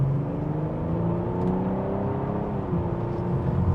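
Interior engine sound of a 2026 BMW M440i xDrive with its turbo engine at about half throttle in comfort mode, a smooth, steady rising drone and whir that climbs slowly in pitch, with no talking.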